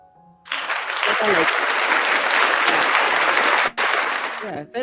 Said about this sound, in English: Guys, can you clap for the guest?